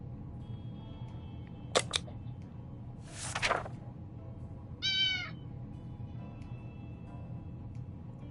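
A cat meows once, a short rising call, after a couple of quick clicks and a brief rustle in an otherwise quiet room.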